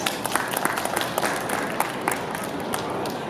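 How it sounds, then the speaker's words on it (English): A conference audience applauds, dense steady clapping from many hands filling the room for a few seconds without a break. "Everybody please give her a round of applause."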